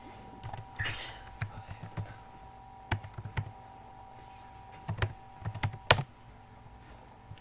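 Keyboard typing while entering details into an online job application form: short bursts of soft clicks in irregular clusters, fairly close and moderately quiet, with faint background hum.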